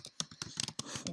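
Quick bursts of keystrokes on a computer keyboard, typed with the keyboard held sideways, several close clicks in an uneven rhythm, fairly quiet.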